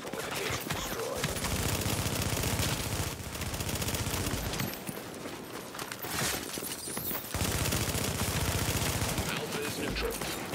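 Heavy gunfire hammers a fortification in an online shooter match, with dense, continuous bursts of automatic fire that stay loud throughout and swell and dip without any gap.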